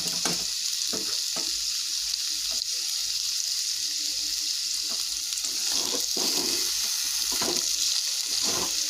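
Oil sizzles and crackles continuously as food fries, a steady hiss punctuated by occasional louder pops and stirring clatter.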